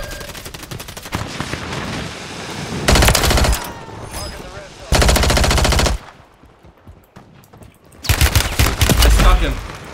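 Automatic weapons fire in Call of Duty: Warzone on Rebirth Island, several loud sustained bursts of rapid gunshots separated by quieter stretches of battle noise.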